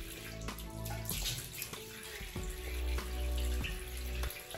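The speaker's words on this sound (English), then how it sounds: "So I just wet my face, take some water," Water splashes and runs at a bathroom sink as hands scoop it up to wet a face, a steady close wash of tap flow with repeated sloshing bursts.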